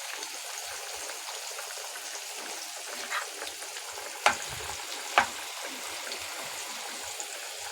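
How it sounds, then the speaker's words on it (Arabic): Flour-coated onions fry in oil with a steady close sizzle and crackle, broken by two sharp clicks near the end, with no talking. "البصل انا حاطه عليه دقيق زي ما حضرتك شايفين كده، هفرده عشان الزيت."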